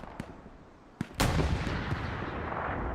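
Bombing-run explosions in a World War II video game battle over Utah Beach: two sharp thuds, then a heavy, sustained blast and rumbling barrage that rolls on loudly to the end.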